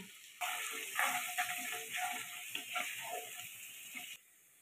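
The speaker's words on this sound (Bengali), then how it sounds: "রসুন কুচিগুলো ভাজা হয়ে গেছে" Chopped garlic sizzling steadily in hot oil in a pan while rohu fish bharta is being cooked, a continuous crackling fry with small pops that stops abruptly at the end.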